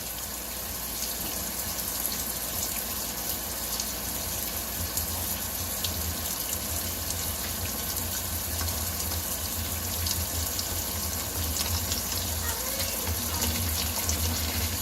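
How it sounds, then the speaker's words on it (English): Hot water pours steadily from a tap into a plastic container, a continuous even hiss and splash at close range with no breaks. "Now I'll put some hot water in there still"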